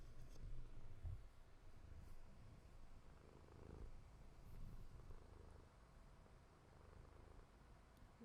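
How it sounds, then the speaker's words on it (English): A cat purring very softly and close, a faint low rumbling purr continuing steadily for several seconds with no talk. "Is it a purr happening?"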